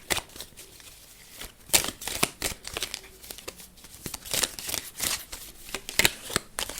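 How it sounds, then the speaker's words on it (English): A deck of tarot cards being shuffled by hand, close and continuous, with rapid papery riffles and flutters rising and falling in bursts across the whole stretch. "I just realised you can't see me shuffle."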